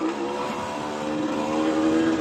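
A Yamaha DT 50 X motorcycle's small engine runs at a steady buzzing idle, close and fairly loud, with a constant drone and no speech over it.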